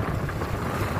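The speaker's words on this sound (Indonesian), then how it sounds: "angin selatan bertiup cukup kencang" Strong south wind at sea at night beside a fishing lift-net platform: loud, continuous buffeting wind rumble over the microphone with surf wash beneath, steady for the whole moment.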